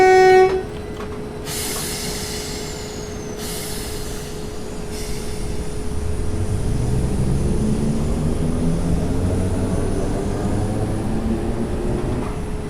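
A passenger train in Train Simulator 2018 pulls away from London Victoria, with a steady low rumble that grows heavier and louder as it gathers speed, and a rising pitch. A constant tone runs throughout.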